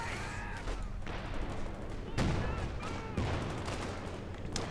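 Gunfire in the strategy game Company of Heroes 2 during a 2v2 match, with rifle and machine gun bursts and muffled booms crackling in a dense battle mix, a voice talking faintly under it.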